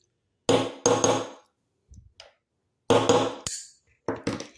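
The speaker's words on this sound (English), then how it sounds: "Use a hammer." Sharp metallic hammer taps ring out close by in small groups, two then a few more, with quiet pauses between, as a bearing is tapped into a Tamiya BZ Super Stock.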